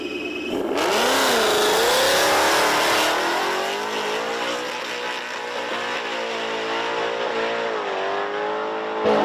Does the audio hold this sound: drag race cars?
yes